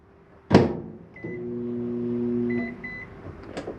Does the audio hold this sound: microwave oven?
yes